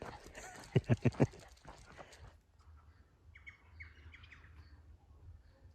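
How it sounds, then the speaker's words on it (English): A wattlebird gives a short series of four sharp, loud calls, followed by fainter chirping and outdoor background noise during a walk. "that was a wattle bird"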